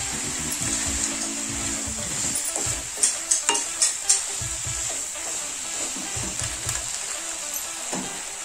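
Carrot halwa being stirred in a pan, a spoon scraping and swishing through the mix with a soft steady sizzle underneath and a few sharper clinks of the spoon against the pan mid-way.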